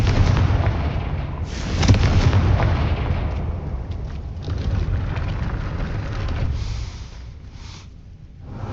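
A Confringo fire spell explodes in the Hogwarts Legacy video game, a loud sustained rumbling burst of booms and crackling that swells near the start and then rolls on with a broad, noisy roar.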